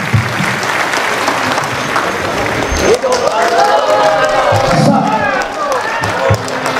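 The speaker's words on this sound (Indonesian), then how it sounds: "tepuk tangan ya." A crowd applauds loudly at the declaration and inauguration of a Batak community organization; after a few seconds, cheering and shouting voices rise over the continuous clapping.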